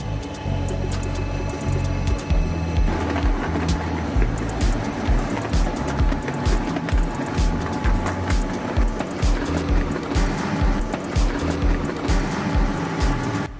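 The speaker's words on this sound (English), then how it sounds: "Meet the pellet maker machine, a versatile tool that transforms wood and sawdust into compact," A pellet maker machine pressing wood and sawdust into pellets runs with a loud, steady mechanical drone and rhythmic grinding and clatter throughout, alone with no talking.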